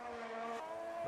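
Formula 1 race cars lap the Red Bull Ring in a racing video game, a steady high engine whine with a shift in pitch midway, heard at a moderate distance and without any voices.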